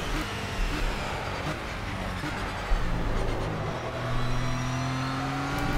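Race car engine in Project Cars lapping the Nordschleife, a steady loud droning roar with rising revs and gear changes, occasional tire noise, no talk over it.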